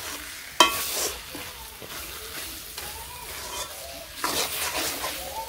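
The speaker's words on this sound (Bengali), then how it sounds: "আদা দিয়ে নিই, আদা ভালো করে মিশিয়ে নেব" Ginger is stirred into a frying dish in a pan in a village kitchen, with a spatula scraping and clinking against the pan over a soft sizzle, close by, in a few uneven strokes.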